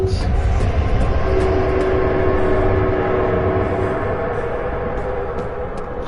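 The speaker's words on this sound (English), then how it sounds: "Trains." A train rumbling past in the horror game Amnesia: The Dark Descent, a loud, steady rolling roar with a sustained tonal drone, gradually easing slightly toward the end.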